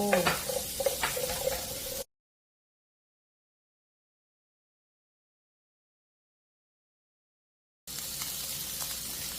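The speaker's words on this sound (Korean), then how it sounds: "양파랑 브로콜리 아까 썰어둔 재료를 볶을 거야." Onion and broccoli stir-fry in oil with a moderate sizzle and a few light knocks. The sound plays for about two seconds, then drops into a long silent gap, and the sizzle returns briefly at the end.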